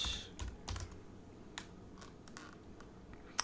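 Computer keyboard typing: a scattered run of light key clicks at irregular intervals, quiet and close, with a slightly louder tap near the end and no voices.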